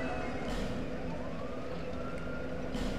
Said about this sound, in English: Ambulance and fire truck!